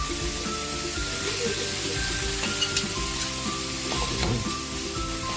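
Ground pork sizzles and fries steadily in a hot pan, with continuous crackling and occasional stirring scrapes, close and fairly loud throughout.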